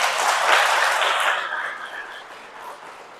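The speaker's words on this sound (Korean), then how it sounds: "이분들도 박수 한번 쳐주세요." A Korean Catholic church congregation breaks into applause, a dense burst of many hands clapping that fills the hall and then thins and fades over a few seconds.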